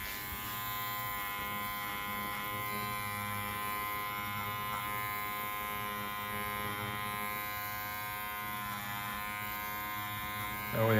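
An electric shaver hums steadily as it trims excess yarn from the back of a tufted rug, a close, even buzzing drone with slight variations as it moves, continuous and free of talk.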